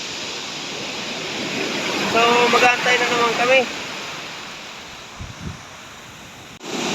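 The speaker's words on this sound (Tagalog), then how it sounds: "Napakalakas guys ng dagat." Strong sea waves make a steady surging roar of surf under wind noise, with someone speaking briefly over it partway through.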